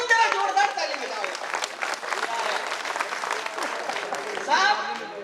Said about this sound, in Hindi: एक बार पूरा समझ जरा जोरदार ताली बजाओ